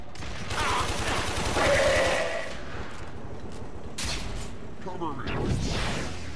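Gunfire in the Warframe video game, a dense burst of rapid shots with mechanical clatter and whooshes, mixed under voices talking throughout.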